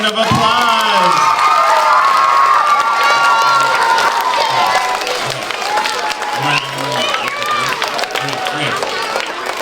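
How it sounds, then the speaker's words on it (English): Crowd of schoolchildren cheering, shouting and clapping for school brass players, loud and lively throughout, with excited voices and high-pitched squeals over scattered applause. "let's give them a round of applause"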